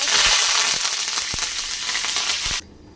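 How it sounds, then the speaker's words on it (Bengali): Curry leaves and two dried chillies hit hot mustard oil with mustard seeds, a loud, close, steady crackling sizzle with a few sharp pops, cutting off abruptly near the end. "এবার দিয়ে দিলাম কারি পাতা"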